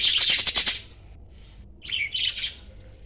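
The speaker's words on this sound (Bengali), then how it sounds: "একটি পাখি" A pet budgerigar chirping at close range, a rapid burst of bright twittering, a short pause, then another run of squawky chirps, with no voices.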